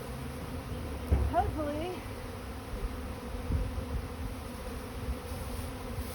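A swarm of honeybees buzzes steadily around a bucket outdoors early in the season, a constant close drone, while a person briefly speaks over it.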